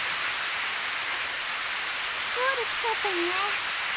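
Heavy rain hisses down in a steady, dense wash in a sudden downpour in the anime Muv-Luv Unlimited, with a voice speaking briefly underneath it.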